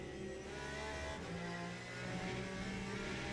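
Race car engine in the Le Mans Ultimate racing game, a steady loud mid-pitched drone with shifting tonal pitch as the car downshifts through several gears, a brief dip and then rising again.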